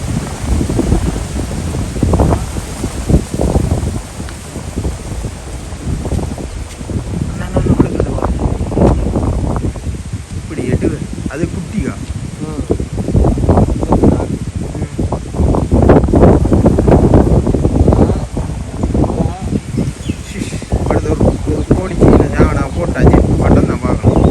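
Strong wind buffets the microphone outdoors near water, a steady loud roar and rustle filling the whole stretch with gusts swelling and easing, while people talk over it throughout.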